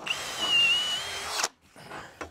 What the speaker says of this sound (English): going down with this 10 mil drill bit, I'm going to drill them holes through that timber